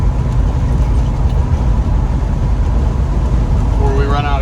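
Chevy G20 van with a loud, steady engine rumble and road noise as it drives and turns around, heard from inside the cab with a voice briefly rising over it near the end.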